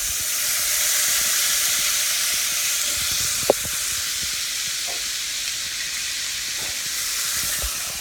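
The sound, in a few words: pan sizzling while deglazing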